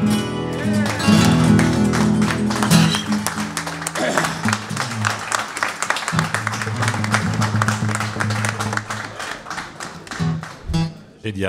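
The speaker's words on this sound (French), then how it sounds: "Y compris avec les applaudissements" Audience applause at a live blues concert, a dense steady patter of clapping that swells and continues after the music, with a voice briefly over it.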